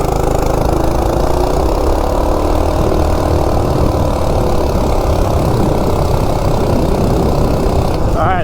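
A Coleman RSV minibike with a stock 196cc engine and a 10-tooth jack shaft sprocket revs loud and close, droning steadily as it accelerates, while a rider speaks over the engine noise.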